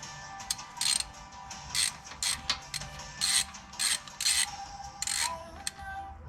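Ratchet wrench tightening a spark plug on a Kawasaki Mule FXT utility vehicle, with repeated short clicking bursts in an irregular rhythm, close and fairly loud, and brief pauses between strokes.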